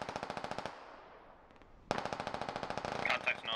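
Rapid automatic gunfire in the Squad Ops military game: a sustained burst of evenly spaced shots, a short pause, then another long close burst, with a brief voice in the mix.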